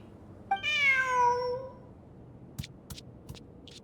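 A cat in the video game Genshin Impact lets out a single clear, rising-then-falling meow, followed by a few sharp faint clicks against a quiet background.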